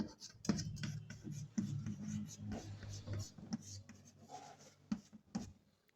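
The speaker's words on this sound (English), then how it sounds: "See, I have written here this sentence in Hindi." Marker or chalk scratching across a board as a Hindi sentence is written, in short scraping strokes mixed with a man's speech close by.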